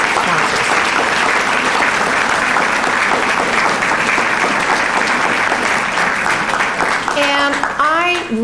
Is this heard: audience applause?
yes